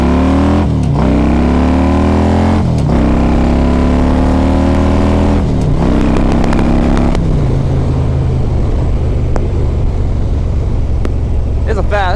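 A carbureted 2001 Harley-Davidson Ultra Classic with an S&S motor and S&S top end revs hard through several rising and dropping sweeps, then settles into a loud rough rumble as it pulls away, close and powerful.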